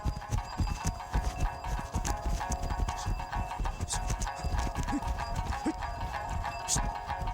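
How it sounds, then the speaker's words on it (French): A horse's hooves clip-clop in a steady, even pacing rhythm on hard ground, moderately close, over a constant background rumble. "Au trot ou au pas, le cheval lève en même temps les deux jambes du même côté."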